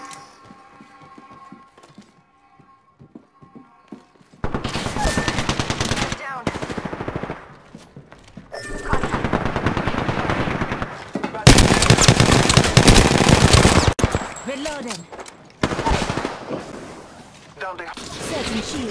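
Bursts of automatic gunfire in the video game Apex Legends, loud sustained volleys broken by short pauses, with voices talking in places.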